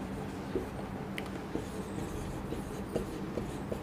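Numbers being written during a maths lesson on odd and even numbers, a faint, steady scratching of pen or chalk with small ticks, with no voice.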